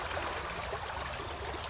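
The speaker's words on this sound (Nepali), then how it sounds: "पानी आउन लाग्यो।" Steady rain beginning to fall around a home, a soft, even hiss of water throughout, with no voices.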